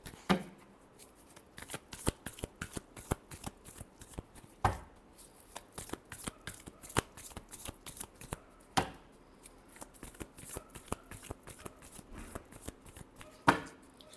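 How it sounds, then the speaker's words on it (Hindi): Tarot cards are shuffled by hand, close and crisp, a long run of rapid snapping riffles with a few louder slaps as the deck is squared, against a quiet room. "last shuffle"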